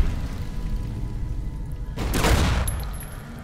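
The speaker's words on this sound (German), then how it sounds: "Ich muss die mal sprengen jetzt." Mines detonate in Fallout: New Vegas as a single loud burst of explosion noise that swells and fades over about a second, after a quiet stretch of low background rumble.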